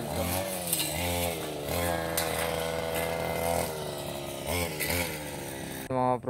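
A gasoline grass cutter trims grass along a rice paddy dike, its engine whining and rising and falling in pitch as it bites into the growth, loud and close, with a voice talking over it near the end.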